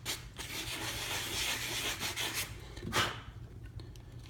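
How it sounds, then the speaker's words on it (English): A sanding block rubbed lightly in circles over a fishing rod reel seat, giving a steady close abrasive scrubbing with a sharper stroke near the end. "Take your sanding block and just lightly sand it in a circular motion."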